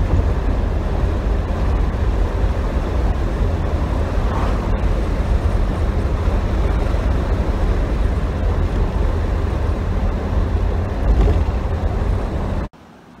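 A 1966 Dodge Dart GT cruising in the open air, heard as a loud, constant roar of wind buffeting the microphone over low engine and road rumble, cutting off abruptly at the end.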